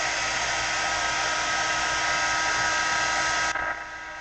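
A hair dryer runs steadily to dry wet paint splatter on a handmade card, a loud continuous whoosh that drops in level near the end as it is switched to a lower setting or moved away.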